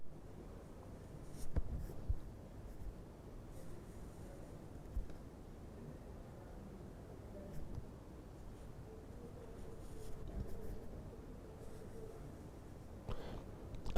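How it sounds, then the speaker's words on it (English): A pen scratching contour lines onto a paper drawing, faint and close, with soft intermittent strokes and occasional light taps over quiet room noise. "So I am just drawing few of the lines to give you an idea"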